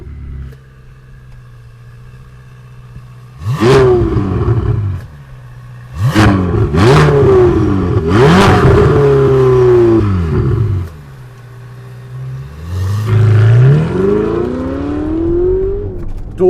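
A Ferrari 488 GTB in race mode with its seven-speed dual-clutch gearbox pulls away hard from an idle, giving several loud rising revving bursts separated by quick shifts and brief lulls, heard from inside with no talking.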